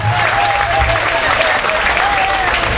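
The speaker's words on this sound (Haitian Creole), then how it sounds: "Applaudissements, applaudissements." Sustained applause from a large crowd, dense and continuous throughout, with a faint voice or tone drifting over the clapping.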